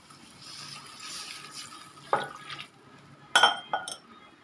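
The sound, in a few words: water being added to a cooking pot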